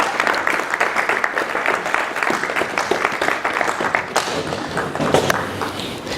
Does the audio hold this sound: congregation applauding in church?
yes